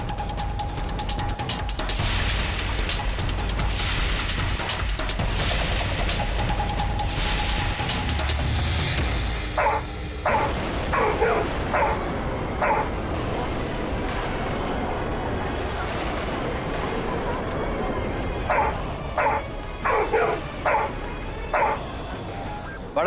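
A dog barks in short, sharp bursts in a courtroom, the yips and woofs coming in two clusters over continuous background noise and voices.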